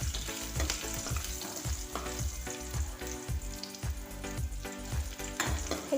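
Chopped green chillies and ginger frying in oil in a pan for paneer masala, a steady close sizzle with rhythmic stirring scrapes repeating about once a second, no talk.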